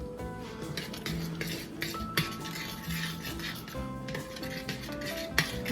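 Pizza soup with pepperoni being stirred in a pot, with continuous clinks and scrapes of a metal utensil against the cookware, fairly close and without talk.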